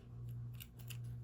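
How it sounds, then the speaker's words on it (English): Several quick, crisp snips of scissors cutting crochet yarn close by, over a steady low hum. "I'm gonna get my scissors,"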